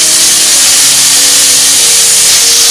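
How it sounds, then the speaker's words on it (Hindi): Tomatoes hit a pan of golden-browned onions while cooking Indian panchmel dal, giving a steady, loud broadband sizzle and hiss that runs through without pause and with no talking. "अब हम इसमें टमाटर डालेंगे"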